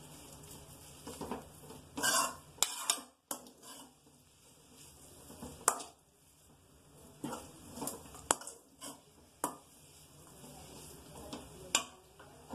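Maggi noodles being stirred in a pan, chowmein style, with soft scraping and sizzling broken by a few sharper clinks of the utensil against the metal, faint and irregular.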